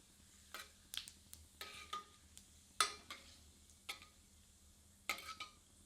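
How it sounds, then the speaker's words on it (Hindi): Cumin seeds crackling in a hot pan with whole red chillies for an okra mutton curry, heard as sharp intermittent sizzling pops and stirring scrapes close by over a low steady hum. "तत्पश्चात आधा टीस्पून जीरा सम्मिलित कर पुनः कुछ क्षण भून लेते हैं।"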